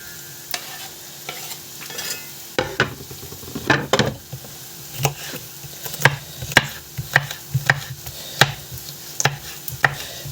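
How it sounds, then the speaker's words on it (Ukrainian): Vegetables, including peppers, sizzling in a hot frying pan while stirred, with sharp scrapes and clatters from a utensil striking the pan at irregular intervals. "Все по черзі на сковорідку і тушиться."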